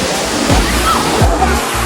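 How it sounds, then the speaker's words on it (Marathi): The Kalmandivi waterfall fills the scene with a loud, steady roar of rushing water, dense and continuous from start to finish, with occasional deeper sloshing surges. "आपण आलेलो आहे काळमांडी धबधब्यावर"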